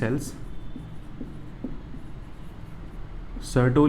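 Marker or chalk writing on a board during a biology lecture, faint scratchy strokes in short bursts, with a voice speaking at the start and end.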